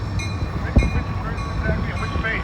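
Freight train hauled by GE locomotives rolls past on a calm late evening, a steady low rumble of wheels and engines close by with one brief heavier thump, and a voice talking over it.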